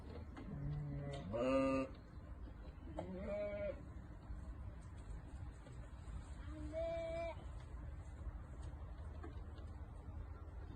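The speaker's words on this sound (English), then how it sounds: "these motherfucking goats is everywhere now" Goats bleating outdoors in a few separate wavering calls spread across the stretch, over steady background rumble from traffic.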